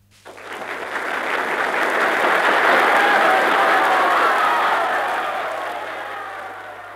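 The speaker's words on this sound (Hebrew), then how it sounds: "מחיאות כפיים נשמעו מעבר הקהל" An audience bursts into applause, the clapping swelling quickly into a dense, steady roar before slowly tapering off near the end.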